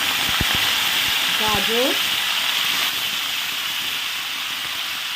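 Cauliflower pieces fry in hot white oil as vegetables cook one at a time, with a loud, dense, continuous sizzle throughout and a brief voice speaking over it.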